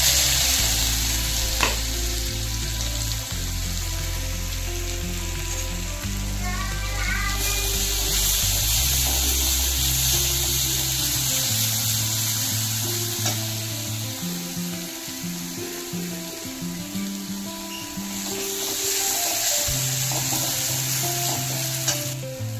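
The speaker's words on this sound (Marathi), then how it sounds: "हा कांदा गोल्डन ब्राऊन होईपर्यंत परतून घ्या" Onion sautéing in hot oil with cumin and paste in a kadai, a steady loud sizzle with stirring scrapes throughout, no talking.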